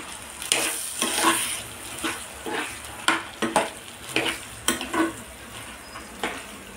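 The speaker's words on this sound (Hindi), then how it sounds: "और इनको अच्छे से हम मिला देते हैं।" Boiled black chickpeas are stirred into sizzling masala in a pan, with a spoon scraping and clinking in a steady series of strokes over a continuous frying hiss.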